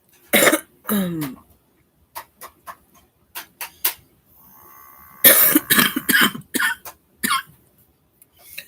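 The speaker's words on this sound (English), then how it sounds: "smoker's cough" A series of harsh, rough coughs in bursts, close up, with short gaps of silence and a faint hum between them.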